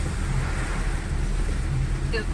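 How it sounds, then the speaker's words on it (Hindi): Strong wind roars across the microphone in a constant low rumble, with a wash of heavy rain hiss beneath it, on an empty road during Cyclone Biparjoy. "बहुत तेज़ हवाएं चल रही हैं, बारिश बहुत तेज़ है।"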